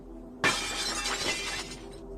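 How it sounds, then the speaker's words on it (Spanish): A window pane next to a door is smashed with an old chair: one sudden, loud burst of shattering glass, followed by pieces rattling and tinkling for over a second before it fades. "Laura terminó de romper uno de los cristales de la ventana que había junto a la puerta."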